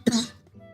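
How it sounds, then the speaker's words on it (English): A single short, harsh cough bursts out close and loud, then fades into a quiet room tone with faint hum. "there's that cough again that I had on the video"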